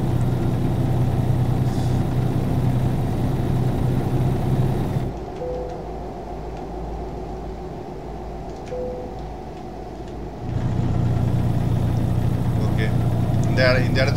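Western Star 49X truck with a 600 hp engine in American Truck Simulator, a steady low engine drone that drops away for several seconds mid-clip before returning at full strength.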